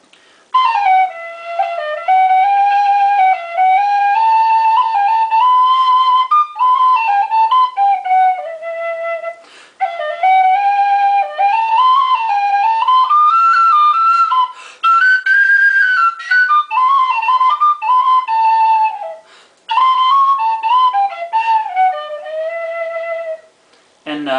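Tin whistle playing a lively, ornamented melody with bright sliding notes and brief breath pauses between phrases, close and loud with no talking.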